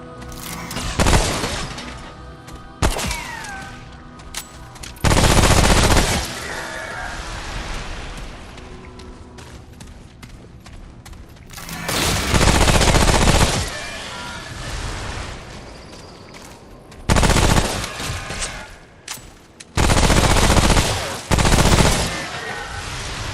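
Enemy gunfire in the video game Remnant: From the Ashes, with loud bursts of rapid shots in repeated volleys separated by short gaps, mixed with other game effects.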